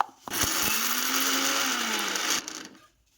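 A mixer grinder runs on green chutney with a loud, steady whirring drone for about two seconds, then cuts off and winds down into quiet.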